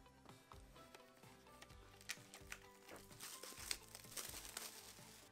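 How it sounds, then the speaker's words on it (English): Plastic wrapping on a DVD package crinkles and crackles close up, with rustling that grows busier and louder toward the end. "So I'm gonna go ahead and unwrap this and then we'll see what's inside."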